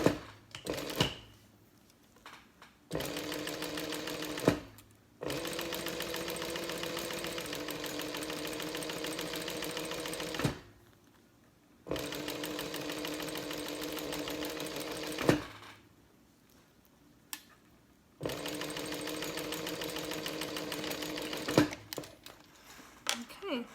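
A sewing machine stitches a vinyl wristlet strap in several long, steady runs of close motor whirring and needle rattle, separated by quiet pauses with brief clicks and handling sounds, and a voice speaks between stretches.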